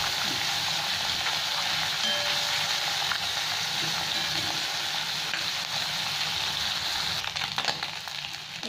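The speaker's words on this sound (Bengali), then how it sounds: "এখানে আমার মাছগুলো সব ভাজা হয়ে যাচ্ছে" Small chala fish, rubbed with salt and turmeric, fry in hot oil for a Bengali chorchori, giving a steady loud sizzle with faint clinks of stirring near the end.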